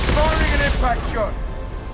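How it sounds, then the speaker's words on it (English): Impact shot gunfire in the video game Mass Effect 2, a heavy, loud burst of rapid shots with a voice shouting over the barrage as it tails off. "Firing an impact shot!"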